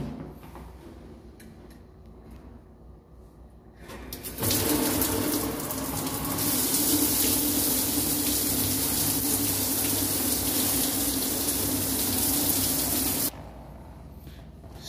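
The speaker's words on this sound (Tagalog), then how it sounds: "Papatayin ko sa tubig." A burning ear candle is put out under running water, a loud continuous gush from a tap that starts abruptly, runs for about nine seconds, then stops, with quieter room noise before and after.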